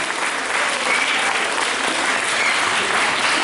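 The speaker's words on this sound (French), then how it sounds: "On peut les applaudir très fort" Loud, sustained applause from an audience greeting guests at a Téléthon charity event in France, dense clapping filling the whole stretch without a break.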